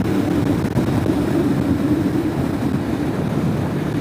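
A 2022 Kawasaki Vulcan S ABS motorcycle engine on a demo ride, a steady loud low drone at cruising speed under rushing wind, continuous and without breaks.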